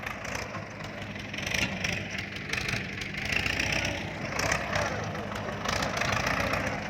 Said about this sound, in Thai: รถไถสองคัน